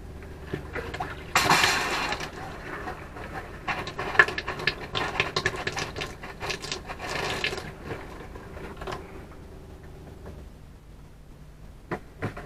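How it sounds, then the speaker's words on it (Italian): Water and air spurt in uneven bursts out of a camper's outdoor shower plumbing, sputtering and hissing with clanks and splashes, loudest early on and tapering into quieter intermittent drips and knocks near the end. "Facciamo riuscire un pochino d'acqua dall'impianto"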